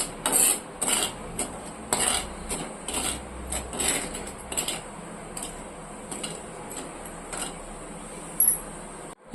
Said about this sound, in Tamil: இப்போது சுகர் வந்துட்டு நம்ம நல்லா மிக்ஸ் பண்ணிக்கணும்.